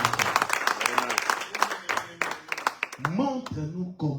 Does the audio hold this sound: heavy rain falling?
no